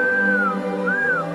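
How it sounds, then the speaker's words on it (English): R2-D2, the Star Wars astromech droid, lets out two rising-and-falling electronic whistles followed by a quick upward chirp, close and clear over a steady hum. "What do you mean, R2? That noise is singing, you silly bucket"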